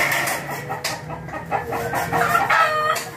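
A rooster crows with a harsh, drawn-out call amid clucking fowl, fairly close, filling the short clip without pause.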